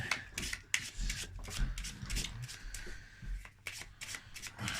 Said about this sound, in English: Shuffling the cards again here.